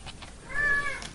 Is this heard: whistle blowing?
no